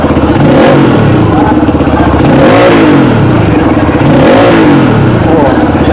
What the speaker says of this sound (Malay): Jom saya rem sikit motor ni.